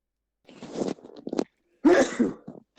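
A single close sneeze bursts out after some breathy, throaty sounds, followed by a short trailing exhale.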